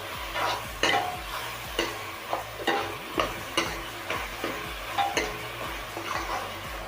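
Vegetable soup stirred in a pan with a spoon, steady scraping strokes repeating about once a second over a soft sizzle, close and moderately loud with no talking.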